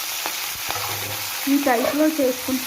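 Chopped spinach hits a hot oil tempering of cumin and spices for palakura pappu, setting off a loud sizzle and stirring scrapes while someone speaks over the cooking.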